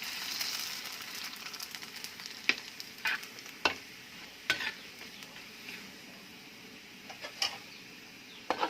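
Thai bean crackers (khao raem fuen) made from beans puff in shallow hot oil with a steady soft sizzle, broken by scattered sharp pops and crackles and light stirring scrapes, close and alone without voices.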